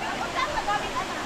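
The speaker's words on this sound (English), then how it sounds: "This is one of the most beautiful waterfalls in all of the Philippines." Cambugahay Falls in the Philippines gives off a short, steady rushing roar of falling water, with faint voices mixed in.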